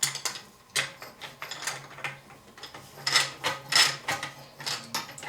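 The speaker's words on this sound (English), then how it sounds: "I'm going to go ahead and screw my outlet flex line on." A flex line fitting being screwed by hand onto the outlet of an Aquastrong water booster pump, giving a series of close, dry scraping and clicking turns in short irregular bursts.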